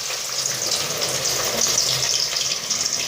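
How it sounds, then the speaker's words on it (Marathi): Chivda ingredients, including crushed curry leaves, fry in hot oil with a dense, continuous hiss and crackle that stays close and fairly loud throughout. "लाल होईपर्यंत तळून घ्यायचं बरं का"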